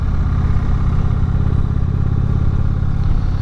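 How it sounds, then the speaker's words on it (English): A 2016 Indian Springfield motorcycle engine thumps along at low revs, a steady, loud, slightly uneven lugging rumble with no talking. "This engine, when you just kind of lug it down a little bit"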